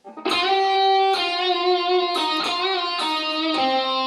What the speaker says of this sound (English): Then we're going to end that by doing a little palm mute from 8 to 10 on the 4th string.